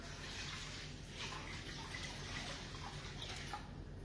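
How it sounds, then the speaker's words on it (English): Ice water pouring into a small container while mango and sweet chilli sausages are being prepared, a steady continuous splashing rush that runs unbroken for the whole stretch at moderate, close level. "hopefully I can fit 2 litres of ice water in this little fucking container"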